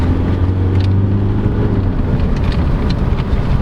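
A 2022 Mazda BT-50 3.0L pickup with automatic transmission revs in manual mode, a loud steady engine drone with a low tone that drops as it shifts up, continuous throughout with no talking.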